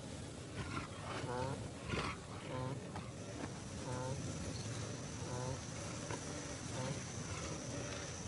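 Male lion in the wild sounding low, rough roars and grunts in several pulses amid a constant insect and cricket drone, with a narrating voice over them.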